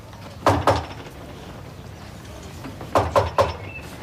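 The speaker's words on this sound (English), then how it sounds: "Sounds to me like there's somebody at the door." Knocking at a front door in a Coronation Street scene: two quick knocks, a long pause, then three more knocks, fairly close and standing alone without voices.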